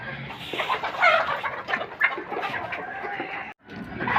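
Hens cluck busily and continuously while pecking at grain mixed with fish oil and vitamin E capsules, the overlapping calls close and lively throughout.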